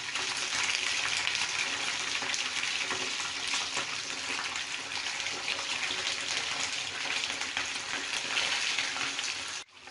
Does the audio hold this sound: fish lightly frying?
yes